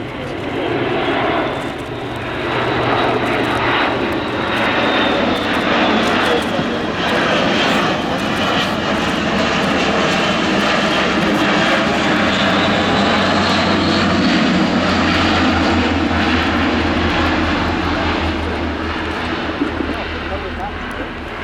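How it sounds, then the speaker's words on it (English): A Luftwaffe Airbus A400M military transport makes a slow display pass at the RIAT 2025 airshow, rear cargo ramp and door open. Its loud, steady turboprop roar fills the whole stretch, with talk over it. "configuration on the next pass, with the rear cargo ramp open and the door, slowing the aircraft to around 150 knots"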